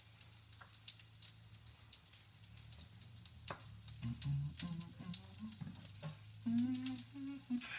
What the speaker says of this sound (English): And we're just going to let those fry.